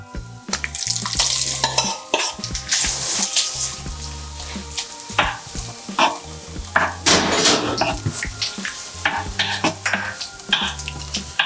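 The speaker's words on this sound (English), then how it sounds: "it's just starting to sizzle underneath. Now we can get our prawns in." Loud, close sizzling of butter and king prawns in a frying pan, punctuated by utensil scrapes and clinks against the pan as the prawns are moved around.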